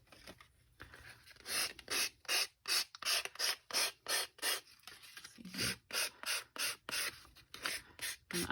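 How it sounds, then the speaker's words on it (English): A hand file rasps along the edges of a paper card to distress them, giving about fifteen short, even strokes in a steady rhythm, close but quiet with no talk. "I buy these files. They're perfect for this type of distressing."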